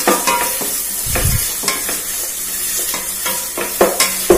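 Sliced onions fry in hot oil with curry leaves and dried red chillies, a loud close sizzle broken by scraping stirs and a few clinks of the spatula against the pan.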